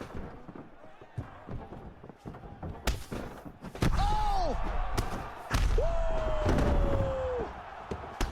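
Ground-and-pound punches land in UFC 5 as a series of sharp thuds and slams, some isolated and some in quick bursts, with crowd roar and commentary swelling underneath.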